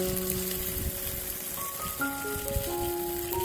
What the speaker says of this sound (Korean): 손 씻습니다.